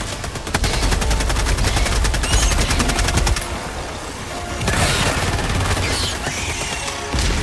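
A Helldivers 2 automatic turret fires nonstop, a loud, dense stream of rapid shots that pauses briefly and then resumes, with louder impacts mixed in along the way.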